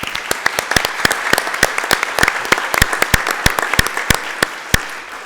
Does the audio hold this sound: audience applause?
yes